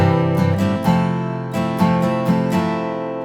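Strummed guitar moving between two chords, a quick series of down and up strokes ringing together, close and steady with no talking.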